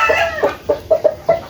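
Gamefowl rooster on a game farm clucking in a quick series of short, sharp, close calls with brief gaps between them.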